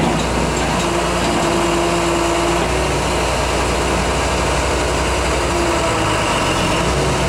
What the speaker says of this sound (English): raising the machine up and down so you can see any slack in the turntable